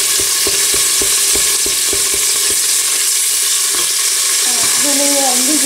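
Garlic and spices sizzle loudly in a frying pan for a Moroccan spinach salad, with steady frying hiss and repeated rhythmic scraping taps of a spoon stirring and crushing the garlic.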